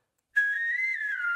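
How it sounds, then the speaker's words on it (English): A clean whistled melody line from a song enters after a brief silence and holds steady and clear, alone with no voices. "I do love this, that whistle throughout the whole thing."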